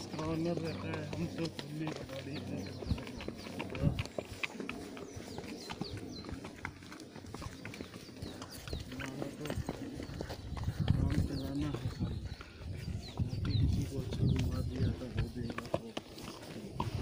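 Horses walk on a road in Shimla, their hooves clip-clopping in irregular close taps while people talk over them.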